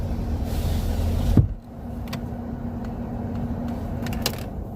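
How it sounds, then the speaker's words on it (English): Car power window motoring up as rain starts, a steady low hum over engine idle that ends with a soft thump as the glass seals, followed by quiet cabin idle with faint clicks. "I'm gonna roll up the window because it's starting to rain."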